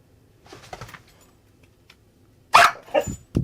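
A dog gives faint whimpery vocal sounds at first, then, after a quiet pause, several loud, sharp barks come close together near the end.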